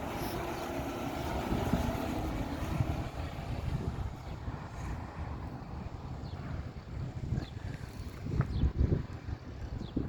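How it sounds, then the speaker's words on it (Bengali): Strong wind blowing on a cloudy day along a road with traffic, steady broadband rushing and buffeting against the microphone throughout, swelling into louder low gusts near the end. "প্রচণ্ড বাতাস"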